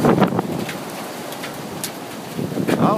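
Steady rain in a fast-moving spring storm, a broad continuous hiss with gusts of wind buffeting the microphone, heavier bursts at the start and end.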